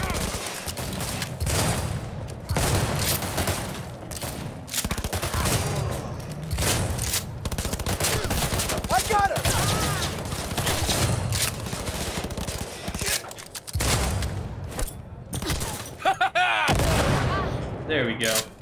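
Shotgun blasts from the Cyberpunk 2077 video game, a series of heavy booming shots spread across the stretch, mixed with game sound and someone talking over the action.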